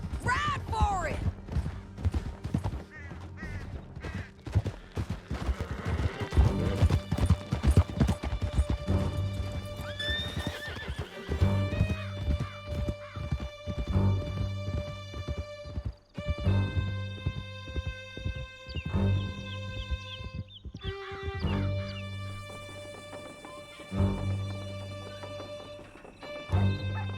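Horses gallop in Red Dead Redemption 2, a steady clip-clop of hooves running throughout, with whinnies and neighs breaking through, alongside music and voices talking over the ride.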